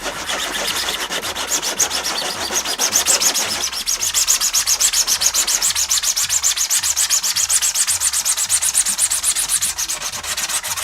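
Sandpaper rubbed by hand against a 3D printed radio-control eagle airplane part, a steady rapid scratching with regular back-and-forth strokes, loud and close, continuing without pause and with no talk.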